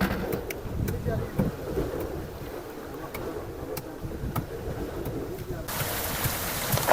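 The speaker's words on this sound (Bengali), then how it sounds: "কালবৈশাখী ঝড় শুরু হয়ে গেছে" Nor'wester storm rain pouring on a fishing boat at sea during hilsa fishing, a steady hiss of rain and wind with scattered sharp patters, growing louder and brighter toward the end.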